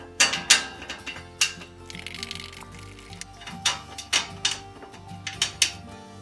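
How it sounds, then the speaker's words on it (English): Screws are driven in while a Husky workbench is assembled, producing a nearby series of sharp, rhythmic ratcheting clicks and metallic ticks in short runs, with no talk. "And then put your 4 screws in. Again, just start them by hand."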